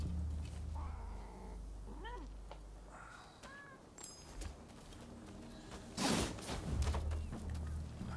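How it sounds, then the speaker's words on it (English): A cat meowing in the video game Rise of the Ronin, a few short mews rising over steady ambient game sound and background noise, with a louder burst near the end. "I hear a cat."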